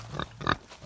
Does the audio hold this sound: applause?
no